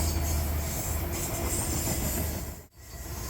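A freight train led by an EMD SD60 and two SD70ACe diesel locomotives rolls past close by on the D&H line, with a dense, steady rush of wheels and rail clatter. A brief dip near the end, with no voices.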